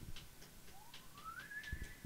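A faint, rising whistle from a person somewhere in the background, one drawn-out note sliding upward over low room noise.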